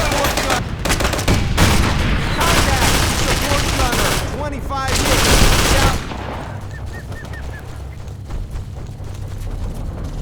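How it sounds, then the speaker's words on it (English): Dense gunfire in the war game Operation Flashpoint: Dragon Rising, rapid overlapping bursts and cracks forming a loud continuous barrage that thins into sparser, more distant shots, with voices heard partway through. "So when they enter a building, gunshots feel louder, explosions sound more muffled if they're happening outside."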